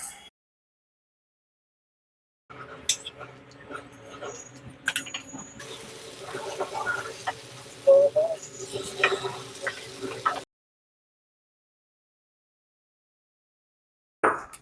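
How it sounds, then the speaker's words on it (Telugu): Marinated paneer fries in a pan, a close crackling sizzle with scattered pops and spatters lasting about eight seconds between stretches of silence, with no voices. "ఇప్పుడు వన్ ఫైనల్ స్టెప్ ఏంటంటే మ్యారినేట్ చేసిన పన్నీర్ని మనం ఫ్రై చేసుకోవాలి."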